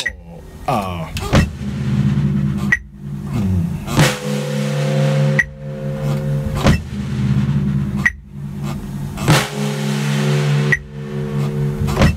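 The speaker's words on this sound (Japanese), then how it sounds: "バスドラムが先ほどまで四分音符で 頭を打っていたのに対して2拍と4拍にスネアドラムを入れます" A drum kit in a rehearsal studio plays an eight-beat pattern, with the bass drum on quarter notes and the snare on beats two and four. Loud, close hits recur at a steady pulse, with ringing tones sustaining between them.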